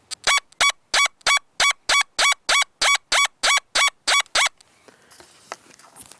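XP DEUS metal detector in its Goldfield program sounding for a silver dollar: about fourteen loud, evenly spaced electronic beeps in quick rhythm, then quiet faint noise.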